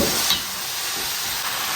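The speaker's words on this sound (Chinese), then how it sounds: "多翻炒一会儿，把鸡头煸香" Chicken heads stir-fried in a wok with spices and aromatics, a steady close sizzle and hiss with scraping stirs, no talking.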